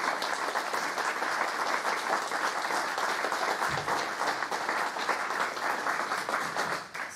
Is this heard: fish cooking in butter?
no